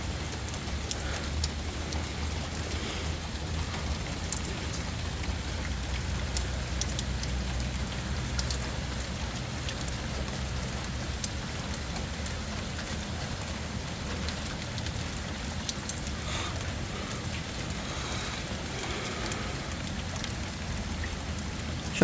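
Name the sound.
rain falling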